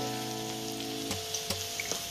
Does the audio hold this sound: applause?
no